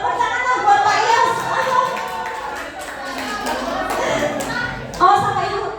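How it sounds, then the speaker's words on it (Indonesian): Classroom applause for a teacher, Pak Yos, rises as scattered hand clapping mixed with children's voices, with a fresh burst near the end. "Tepuk tanganlah buat Pak Yos"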